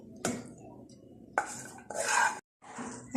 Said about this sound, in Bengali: এখন আমি এই সবগুলো ভেজিটেবল আর পাস্তাটা হোয়াইট সসের মধ্যে আমি খুব ভালোভাবে নেড়ে চেড়ে মিক্সড করে নিচ্ছি